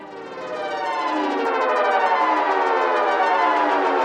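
An Echolocator delay pedal's riser effect sweeps a dense stack of tones steadily upward in pitch, swelling from moderate to loud and sustaining as a continuous siren-like rise, alone with no talking.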